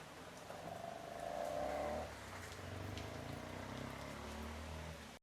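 Rain falls steadily as a continuous broadband hiss with faint patters, constant and moderately loud throughout, with a soft low hum underneath and no talking.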